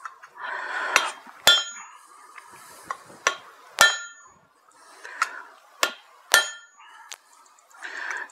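A blacksmith hammers scrap metal while setting the primary bevel of a single-bevel broad axe, sharp ringing clangs struck singly at an uneven pace, about ten blows over several seconds, close and loud, with duller metallic clinks and rustle between strikes.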